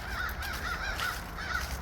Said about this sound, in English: Hi, crows.